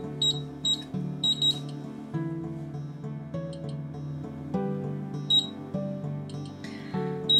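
A Pulse Basic security keypad emits short, high electronic beeps at intervals while its time-delay open window runs, sounding over a steady tonal hum.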